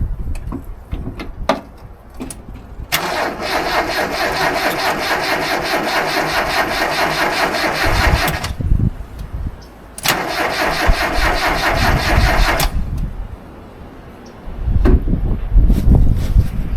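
The engine of a rare minitruck cranks over in two long, loud attempts of several seconds each, a fast rhythmic churning close by, with short gaps of quieter ambient noise between them and no sign of it catching.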